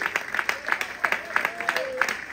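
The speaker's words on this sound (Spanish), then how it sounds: "Ese aplauso al gran yo soy." A small church congregation claps in a quick, uneven patter, moderately distant, with a voice briefly sounding over the applause.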